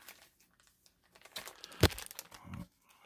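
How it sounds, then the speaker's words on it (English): Baseball card rack pack wrapper being torn open, a burst of close plastic crinkling that peaks in one sharp rip, then a few softer rustles. "let's cut into the center tier of this rack pack and see what we get"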